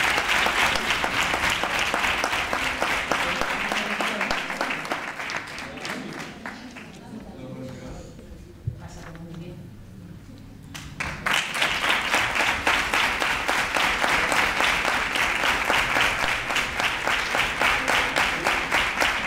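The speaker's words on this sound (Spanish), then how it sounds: "¡Fuerte el aplauso!" Loud crowd applause at a Three Kings coronation event in Nerva, steady clapping that dips briefly in the middle then swells back to full strength.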